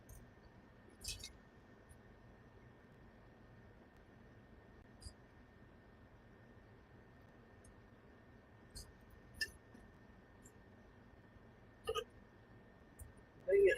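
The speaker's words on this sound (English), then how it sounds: "Hiccups." A few short, sharp hiccups scattered across an otherwise quiet stretch, close and abrupt, with faint background hum in between.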